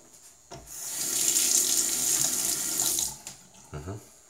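Water running from a bathroom tap while a razor is rinsed under it, a steady close splashing stream lasting a few seconds before cutting off, followed by a couple of small clinks and drips.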